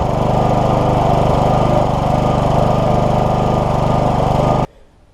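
Hayter Hawk lawn mower engine, freshly fitted with a new diaphragm and gasket after bad fuel, running loud and steady with a close, even drone before cutting off abruptly near the end.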